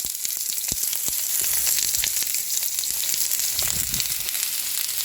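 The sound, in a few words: chopped onions frying in oil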